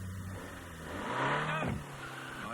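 A Renault 19 Chamade saloon car drives off in a television advert, its engine revving up and rising in pitch, then easing away, fairly close and loud.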